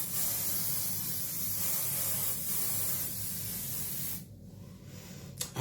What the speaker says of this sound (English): I love the spray of hairspray.